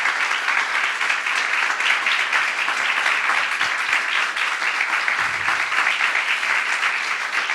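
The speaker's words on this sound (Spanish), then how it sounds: "Un aplauso de gratitud." Steady, loud applause from a big church congregation fills the space, many hands clapping continuously without pause.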